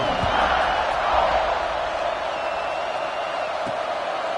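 A stadium crowd in the NCAA Football 26 video game roars in a broad, steady wash of cheering at an Arizona Wildcats versus Alabama Crimson Tide game, loud and sustained throughout with no clear peaks.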